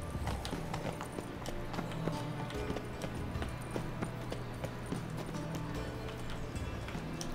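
Horse hooves clip-clop at a steady trot along an open road in the video game The Witcher 3, sharp regular hoof strikes over a low continuous background drone, with no talking.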